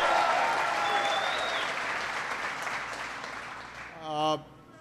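An audience at an auto plant applauds the mayor with sustained, dense clapping that slowly fades, ending in a brief voice near the close.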